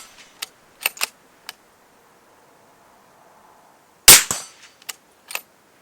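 A Browning X-Bolt 2 rifle in .308 fires a single loud, sharp shot, surrounded by sparse metallic clicks and clacks of the bolt being handled, in an otherwise quiet setting.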